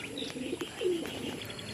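Racing pigeons coo softly in a loft, a short low throaty call rising in the middle amid faint chirps and light background rustle.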